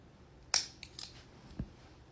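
Scissors snip through a hair weft for a Rhaenyra Targaryen wig, giving one sharp close cut followed by a few lighter clicks and a soft thud, with no talk.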